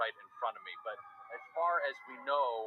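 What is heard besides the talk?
fire truck siren leaving downtown fire station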